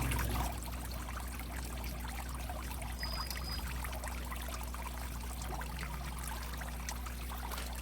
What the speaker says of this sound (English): I have here my DIY air pump, and we're gonna give them water inside, air inside.